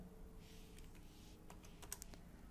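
Keys are pressed on a computer keyboard while drafting in AutoCAD, a few faint, quick clicks spaced irregularly over a steady background hiss.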